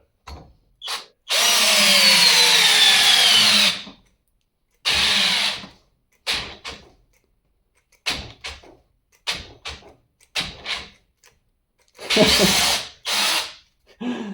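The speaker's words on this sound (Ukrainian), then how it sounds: "Беремо великий гвинт і пробуємо. Будемо крутити в центр." A Dnipro-M power drill drives a large screw into wood in repeated bursts, first a long whining run, then shorter stuttering pulls as it strains, loud and close with silent gaps.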